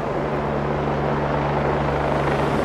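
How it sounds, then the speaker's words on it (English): A water-bombing helicopter works over an Australian bushfire, a steady rumbling rotor and engine drone that holds at an even, fairly loud level throughout. "It looks like they're coming into water bomb."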